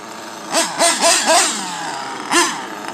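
A small P3 Pico motor, broken in with a shim removed, runs and revs in several quick bursts, rising and falling blips close by, followed by a steadier idle and one last rev.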